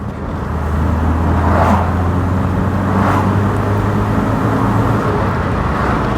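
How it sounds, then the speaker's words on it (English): Steady in-car engine drone from an Austin Montego estate with the S series engine, a gruff hum holding near and loud as the car accelerates and gathers speed. "There's a lovely gruff engine noise, I think, to the S series engine."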